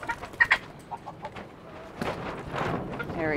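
A frizzled naked neck hen clucks in short, close bursts early on, followed by softer clucking and rustling. Then a busier stretch of overlapping bird sounds from the flock starts up.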